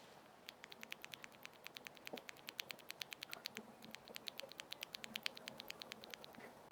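A single milky-white Galaxy keyboard switch with POM stem and POM housing, pressed repeatedly on its own, gives crisp, faint, evenly spaced clicks in a quick steady rhythm over a quiet background.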